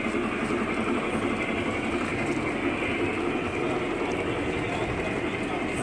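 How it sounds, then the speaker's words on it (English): A model train runs on a museum layout, giving a steady, even rolling hum and hiss that stays constant and fairly loud throughout, with no voices. "It's making a noise too,"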